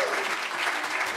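Thunderous audience applause for the band at Club Rood Rotterdam, a dense, steady wash of clapping from many hands filling the whole moment with no voices.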